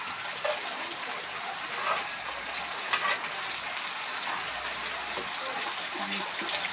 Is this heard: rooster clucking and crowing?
no